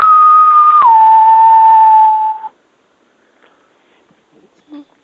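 A single sustained whistle, held at one pitch with a slight dip, lasts about two seconds, then silence; a voice is imitating an eerie whistling sound.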